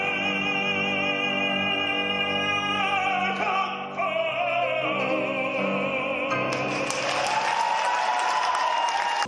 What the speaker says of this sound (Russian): Он пробует и срывает аплодисменты.